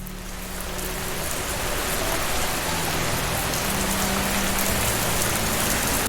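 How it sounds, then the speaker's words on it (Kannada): Heavy rain pours steadily under dark clouds over a village, a thick hissing downpour that swells in over the first second and then holds constant and loud, with no voices. "ಮಳೆ ಕೂಡ ಜೋರಾಗಿ ಸುರಿಯೋಕೆ ಶುರು ಆಗುತ್ತೆ."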